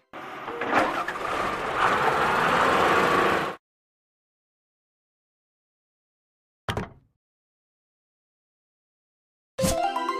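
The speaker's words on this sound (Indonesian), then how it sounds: "ekskavator." Excavator engine sound from a kids' vehicle game, a few seconds of loud, rough motor rumble that cuts off into silence. Two brief bursts of sound follow later.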